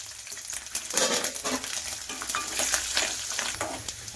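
Mustard seeds, urad dal, fenugreek, curry leaves and small garlic fry in hot oil, a close crackling sizzle with irregular popping and stirring scrapes throughout, no speech.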